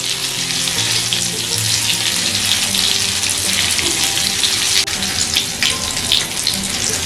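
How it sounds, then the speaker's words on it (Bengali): Tomato pakoras fry in hot oil with a steady, dense crackle that holds for the whole stretch, broken only by a brief dip near the end. No one speaks. "এখন পকোড়াগুলোকে উল্টে পাল্টে লাল লাল করে ভেজে নিতে হবে।"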